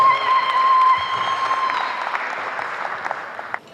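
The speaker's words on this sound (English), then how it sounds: "Please give him a round of applause" Loud applause from a crowd at a wedding, steady clapping that gradually thins and fades toward the end.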